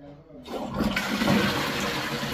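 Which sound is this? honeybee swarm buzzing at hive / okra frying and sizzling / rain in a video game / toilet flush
toilet flush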